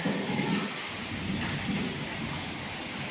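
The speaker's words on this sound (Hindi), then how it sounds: "बारिश बहुत आ रही है देख सकते हैं आप." Heavy rain pours down in a village, a dense, steady roar of falling water with a low thunder-like rumble beneath it, loud and close throughout with no voices.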